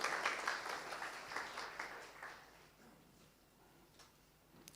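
Applause from an audience at a national forum on war and Crimea, a scattered wave of hand claps that fades from moderate to faint over several seconds.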